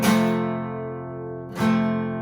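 A guitar bar chord played with poorly pressed strings is strummed twice, each strum ringing bright and full before decaying, alone and with no voices.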